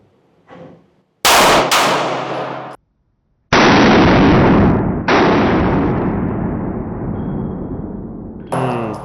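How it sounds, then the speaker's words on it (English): A pistol fired in a pair of quick shots during grip practice, two sharp loud cracks in rapid succession, followed by a short silence and then a long ringing, clipped roar of echo and gear noise that slowly fades. "So now we're gonna move on to shooting a double."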